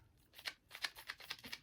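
A small tape measure shaped like a book retracts in a quick run of soft, light clicks and ticks, faint and close.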